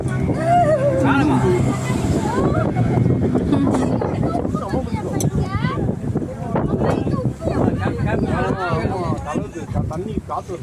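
Sea wind buffeting the microphone on a boat trip near Kurusadai island by Rameswaram, a steady rumbling gust under a boat engine's drone, with people chatting throughout.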